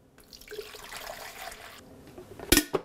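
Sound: water being poured into a Mr. Coffee drip brewer

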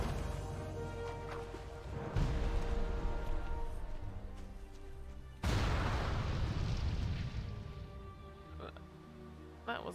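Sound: explosion in a video game

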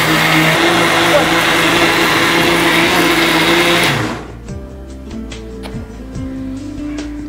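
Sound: mixer grinder grinding rice and urad dal batter

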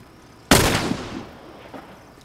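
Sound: gunfire in a video game

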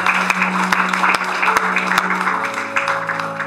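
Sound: church congregation applause

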